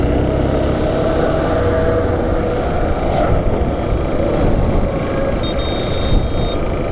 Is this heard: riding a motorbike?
yes